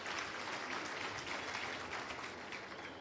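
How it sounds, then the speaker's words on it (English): An audience at the launch of a skills development centre applauds for the minister, a steady dense wash of clapping throughout with no speech. "I think he deserves a round of applause"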